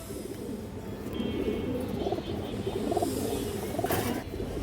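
Male and female fancy pigeons coo in soft, continuous, overlapping calls amid a steady background of flock noise, close and fairly loud, with no talking.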